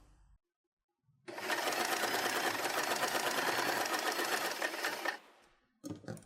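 A sewing machine stitches a fabric hair bow with elastic, running steadily and loudly for about four seconds after a brief pause, then stopping; a short burst of handling noise follows.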